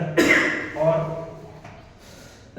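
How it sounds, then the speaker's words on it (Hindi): A teacher's cough during a Hindi music class lesson: one sharp, close burst of coughing with a throaty clearing, followed by quieter breathy sounds and faint room noise. "थोड़ा सा खांसी आ गया"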